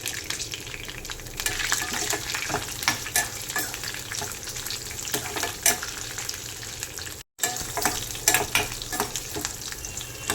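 Mustard-seed tempering with dried red chillies, green chillies and cashews sizzles and crackles steadily in hot oil, a dense continuous frying hiss with occasional stirring clatter, close up and without talk.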